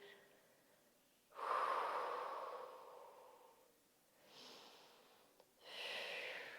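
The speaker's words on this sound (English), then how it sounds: "Breathing here." Slow, deep breaths during a Pilates reformer hip mobility exercise: three long, airy exhales spaced a few seconds apart, close and soft, with quiet pauses between and no talking.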